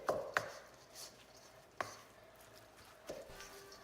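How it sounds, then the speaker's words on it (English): Knife chopping softened cream cheese on a cutting board, a few sharp isolated knocks spread apart, close and moderately loud over quiet background. "I'm gonna pick the cream cheese up a little bit and kind of chop it"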